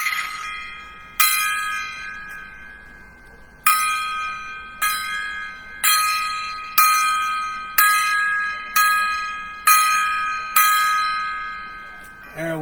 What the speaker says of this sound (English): It's a 10-gong salute.